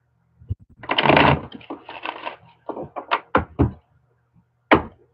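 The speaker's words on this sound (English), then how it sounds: "All right, one more shuffle." Tarot cards shuffled by hand during a live reading: bursts of papery riffling and snapping, with a dense flurry early on, then several sharp separate taps and clacks with short pauses between them, close and moderately loud.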